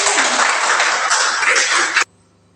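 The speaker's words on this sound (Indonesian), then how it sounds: "kita tepuk tangan untuk" Applause from a classroom audience during a teacher-training performance session, a dense even burst of many hands clapping that runs for about two seconds and then cuts off abruptly into near silence.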